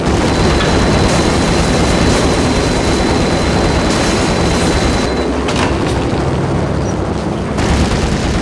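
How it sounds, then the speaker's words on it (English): An unmarked helicopter in the PC game Max Payne thunders steadily with dense, loud rotor and engine noise, broken by a few heavier booming swells. "The unmarked chopper was Horn's pet guardian, inhuman and flawless. It was stalking me."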